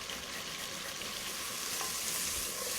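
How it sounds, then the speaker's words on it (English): Chestnut soup with ginger and butter simmers in a pot, a dense steady sizzle and bubbling hiss that stays even throughout while being stirred, with no voices. "Keep on stirring the soup."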